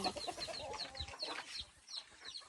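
Farm chickens cluck in short, overlapping bursts near the microphone, a busy flock chattering steadily outdoors with no speech.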